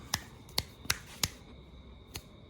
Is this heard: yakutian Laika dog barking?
no